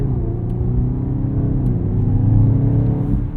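Engine of a 2024 BMW XM Label, a 738 hp hybrid SUV, driven under load: a deep, loud, steady rumble with a slight swell as revs rise, heard from close by with no talking.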